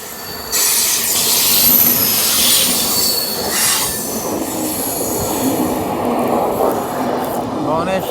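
The Bhubaneswar–Yesvantpur weekly express passes close by, its wheels squealing and rumbling over the rails in a loud, steady roar with faint clicking of the cars going past.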